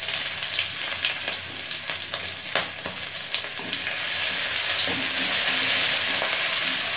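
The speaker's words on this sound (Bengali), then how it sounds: "আদা রসুন দিয়ে কিছুক্ষণ ভেজে নিয়েছি" Chopped ginger and garlic sizzle in a tablespoon of white oil in a wok, a loud continuous crackling frying sound with scraping stir strokes. The sizzle swells stronger toward the end.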